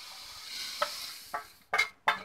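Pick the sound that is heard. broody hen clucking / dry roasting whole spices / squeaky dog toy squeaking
dry roasting whole spices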